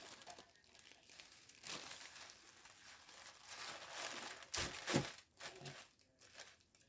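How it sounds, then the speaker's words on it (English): Tissue paper crinkles and rustles close by while being folded around a DIY Santa boot centerpiece, soft irregular crackling that swells into a louder crumple near the end. "then you take your tissue paper"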